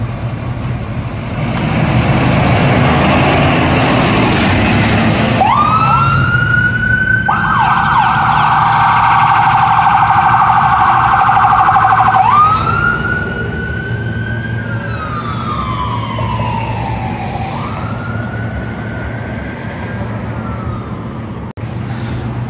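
Fire truck siren wailing loudly as the engine departs a fire station in Texas, a steady rising and falling tone with a long held pitch midway and a final swoop down, close and continuous with no talking.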